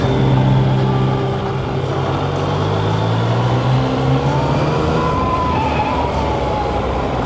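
A Yamaha XSR900 motorcycle engine drones steadily while riding, a loud continuous roar with shifting tonal harmonics and heavy wind rush throughout, no speech.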